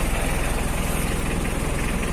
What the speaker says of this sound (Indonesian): Untuk engine atau mesin ya, ini saya akan nyalakan dulu